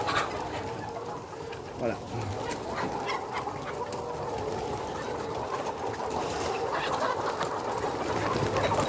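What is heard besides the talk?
young hens (pullets) in the henhouse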